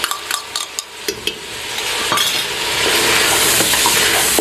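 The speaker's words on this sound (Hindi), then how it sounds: "अब इसको मज़ीद हम 1-2 मिनट के लिए भूनेंगे" Mutton sizzling in a karahi with ginger garlic paste, a steady loud fry building over several seconds with scattered clinks and scrapes of a spoon stirring against the pan.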